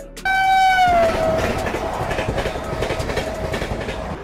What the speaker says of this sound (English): Electric locomotive.